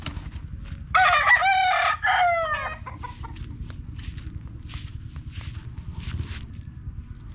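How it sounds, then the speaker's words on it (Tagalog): Rooster crows once nearby, loud and clear, followed by a shorter second call, then scattered clucks and faint chirps over a low outdoor rumble. "Siyempre, may manok."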